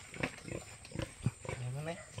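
A farm pig lets out grunts and a drawn-out squeal amid nearby talking voices, short and moderately loud.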